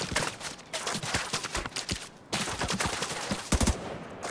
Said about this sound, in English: Cover shooting, gotta love it.